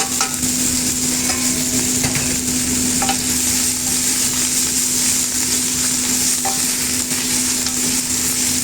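Kangkong (water spinach) stir-fries in a hot pan, a steady loud sizzle lasting throughout with a few faint scrapes of stirring, and no voices.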